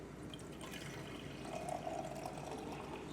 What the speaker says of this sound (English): and I pour it in the large beaker